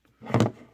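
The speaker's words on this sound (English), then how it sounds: "that's the sound of the boxes hitting the ground" A single dull thud of cardboard toy boxes landing on the floor, short and muffled, close by.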